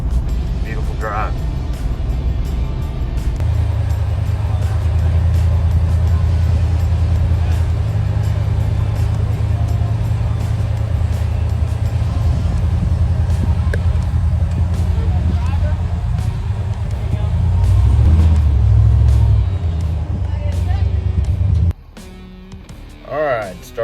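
A vehicle towing a load on Toyo Open Country R/T Trail tires produces a constant low road rumble and cabin hum, with a person talking over it almost throughout.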